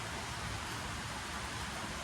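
Steady rain falls on a rural farmhouse during a storm with a power outage, a dense, even hiss that holds without a break throughout.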